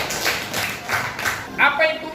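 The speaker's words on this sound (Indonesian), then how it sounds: "tepuk tangan buat teman-teman" Classmates in a classroom clapping in a short rhythmic burst of several claps, fairly close, with a few voices overlapping toward the end.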